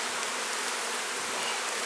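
Honey bees buzz steadily in a dense, continuous drone at an open hive during requeening, close and unbroken with no voices.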